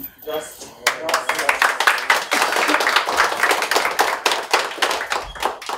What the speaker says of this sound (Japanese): トレーニングして拍手もらうの初めて